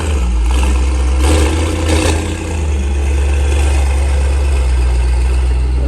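A Mercedes-AMG GT63S engine runs steadily with a deep, loud low rumble, idling and lightly revving for several seconds without any voices.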